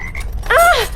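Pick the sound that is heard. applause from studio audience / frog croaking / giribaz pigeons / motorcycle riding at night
frog croaking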